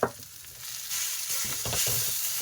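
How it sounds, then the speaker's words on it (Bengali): Fish roe being stirred into a kadai of frying potatoes and onion gives a steady close sizzle with soft scraping and stirring bursts throughout, and no voices. "এবারে এই মাছের ডিম দিয়ে দেবো দিয়ে ভালোভাবে"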